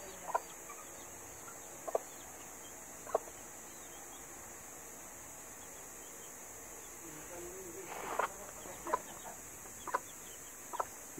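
Newly hatched chicks with their hen in a backyard poultry setting: a few sharp peeping and clucking calls at irregular intervals, clustered near the end, over a steady insect drone.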